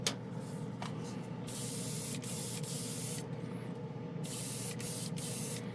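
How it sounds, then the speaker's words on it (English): Aerosol spray paint in a silver gray shade hisses out in long close bursts, with brief pauses between the sprays. "I spray this stuff and I sit and look at it"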